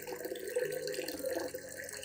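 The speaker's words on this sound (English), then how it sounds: "Add 500 milliliters of clean water to dilute the solution" Clean water pours steadily into a plant solution to dilute it, a soft continuous trickle heard close but faint.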